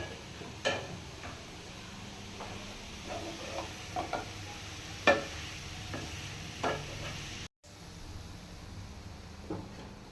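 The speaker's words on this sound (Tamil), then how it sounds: "கேரட் பச்சை வாசனை போற வரைக்கும் நம்ம ஃப்ரை பண்ணிட்டே இருக்கலாம்." Carrots fry in a pan with a soft continuous sizzle, broken by light ticking and scraping taps of a stirring utensil at irregular intervals, with no talking.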